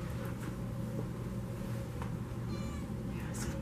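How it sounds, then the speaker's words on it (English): A house cat meows to be let outside on a sunny day, a few short cries over a steady low indoor hum, with faint background voice. "I have to let the cat out."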